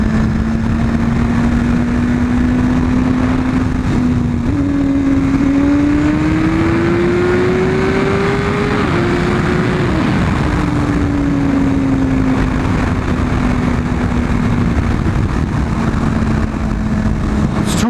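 Loud, steady engine drone of a Nimbus motorcycle during a ride. The pitch rises gradually and then eases back, mixed with heavy wind rush throughout.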